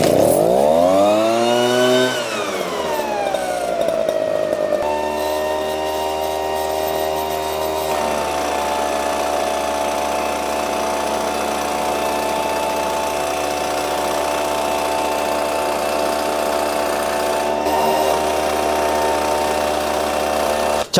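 Onion farm machine's small engine pulled into life with a recoil starter, then running steadily and loudly at a constant buzzing idle for about twenty seconds, with no talk.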